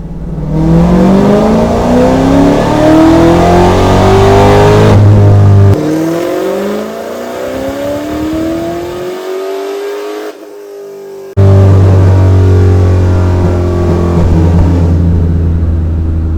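A tuned car engine revs hard to 6,000 RPM, climbing steadily in pitch, loud and close, then stalls abruptly before roaring back to a steady rumble.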